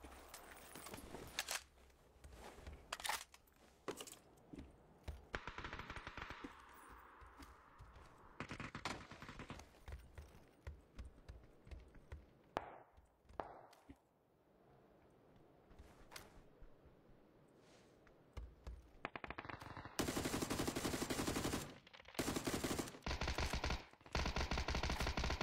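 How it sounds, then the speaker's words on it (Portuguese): Gunfire in a video game, shots aimed at the player, sounds as bursts of rapid shooting mixed with game noise and footsteps, growing louder and denser toward the end, with no talking. "Olha o cara me atirando já."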